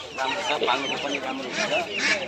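Dense, overlapping clucking and squawking from many chickens nearby at a market, a busy, continuous chorus of fowl calls.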